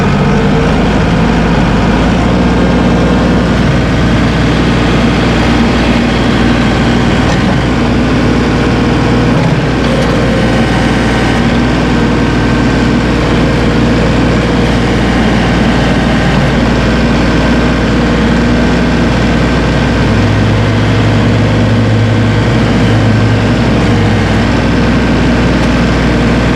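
Massey Ferguson 1840E hydrostatic compact utility tractor, 39.4 engine horsepower, running with its diesel engine brought up to PTO speed: a loud, steady low drone held close and continuous throughout.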